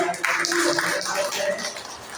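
A seated audience at a spiritual gathering claps together, a dense, steady patter of hand claps that fills the hall for a couple of seconds, with some voices mixed in.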